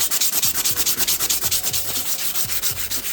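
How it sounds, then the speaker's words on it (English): A copper bracelet being sanded by hand with 1200 grit sandpaper, heard as a steady back-and-forth rasping in a fast even rhythm of about six strokes per second, close and loud, with no talking. "it's got to sand it up to polish it"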